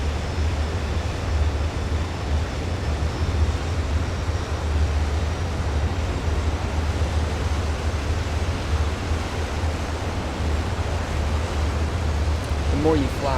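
An AV-8B Harrier jet engine in Microsoft Flight Simulator, throttled up during a slow STOVL approach, roars as a steady, dense, unbroken rush of noise that holds at an even loudness throughout.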